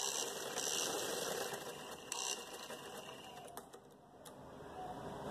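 Sewing machine running steadily up close as it stitches elastic into a trouser waistband, a continuous dense mechanical whir with a few small clicks, no talk.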